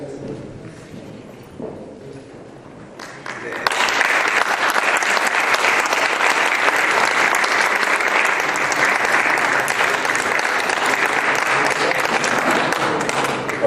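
Loud, dense audience applause at a conference session honoring Senator Jorge Pizarro Soto, bursting in after a few quiet seconds and holding steady, close and full, to the end.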